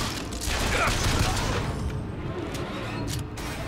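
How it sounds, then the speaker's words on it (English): Gunfire in the video game Bioshock Infinite, a clattering burst of shots and mechanical noise at moderate loudness that eases off, then sharper cracks near the end. "Who the fuck is shooting?"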